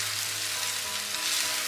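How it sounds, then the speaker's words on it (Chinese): Shredded taro stir-fried in hot oil with scallion whites, Chinese sausage and dried shrimp, filling for a savory taro cake; a steady, dense close sizzle with faint stirring throughout and no talking. "爆香后再将芋头丝翻炒一下"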